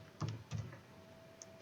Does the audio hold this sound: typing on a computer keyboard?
yes